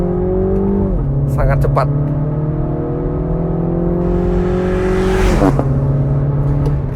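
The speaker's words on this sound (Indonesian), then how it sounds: "gearbox 7 speed dual clutch-nya memindahkan gigi" A 2018 Mini Cooper S with a seven-speed dual-clutch gearbox accelerating hard, its loud engine note climbing steadily and then dropping abruptly at two quick upshifts, while someone talks over it from inside the cabin.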